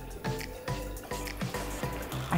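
Essential oil dripping from a distillation condenser on Amorgos, Greece, with a steady series of close liquid drips and trickles falling at a fairly regular rhythm.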